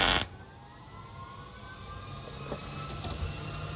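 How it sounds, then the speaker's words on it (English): A MIG welder strikes a single short tack on a steel T-joint, a loud crackling burst lasting a fraction of a second, followed by a quiet background hum. "So I'm gonna tack it up right here"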